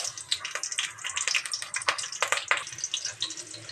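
Green chillies hitting hot oil in a wok, a busy crackling sizzle with sharp spitting pops that rise and fall throughout, close and fairly loud, with no talk.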